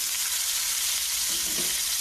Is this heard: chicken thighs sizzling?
yes